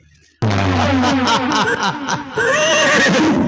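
A horse lets out a loud, close whinny that starts abruptly and trembles down over about two seconds, then a second neigh follows straight after, in a folk stage performance about a battle.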